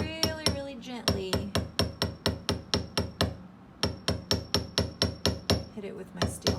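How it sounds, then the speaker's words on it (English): A steel hammer taps gently on copper while a bow fibula is being shaped. Dozens of crisp, ringing metallic strikes land close and in a quick, regular rhythm, with one brief pause partway through. "hit it with my steel hammer"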